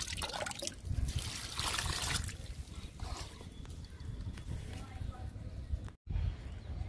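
Liquid fertilizer trickles and splashes from a pouring container onto potted plants, with a steady close dribble that swells and eases, briefly interrupted near the end.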